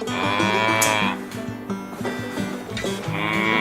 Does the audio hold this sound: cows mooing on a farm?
yes